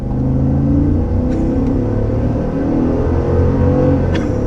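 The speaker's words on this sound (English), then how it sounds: "It never gets old accelerating in the Escalade, that is for sure." A Cadillac Escalade with a 10-speed automatic gearbox pulls hard from inside the cabin, a loud, continuous engine rumble and drone that holds steady for several seconds with no talking.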